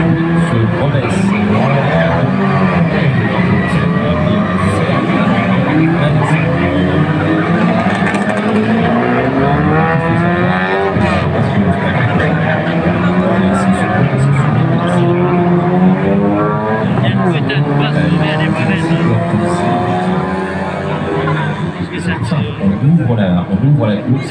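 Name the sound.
race cars on circuit, Mini racing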